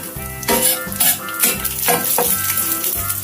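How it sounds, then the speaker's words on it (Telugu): Curry leaves and crushed garlic cloves fry in hot oil for a ridge gourd and moong dal fry, a loud, close sizzle broken by spoon scrapes and knocks against the pan, with no talk. "ఓరెమ్మ కరివేపాకు యాడ్ చేసుకొని 6-7 వెల్లుల్లి రెబ్బలు దంచుకొని యాడ్ చేసుకొని ఓ 1/2 నిమిషం పాటు వేయించుకోవాలి"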